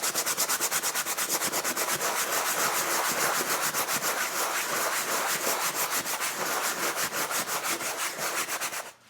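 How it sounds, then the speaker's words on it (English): Scrubbing grime off a waxed canvas jacket, heard as close, fast rhythmic brushing strokes, steady back-and-forth rasps lasting about nine seconds before stopping, with no voices. "Scrub it off, and then wipe up that excess."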